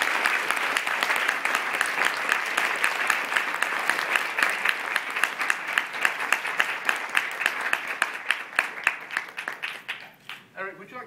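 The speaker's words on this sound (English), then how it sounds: "So a round of applause for Eric." Sustained audience applause at a rehabilitation research day award ceremony, a steady, close wash of many hands that gradually breaks into sparser individual claps and fades away.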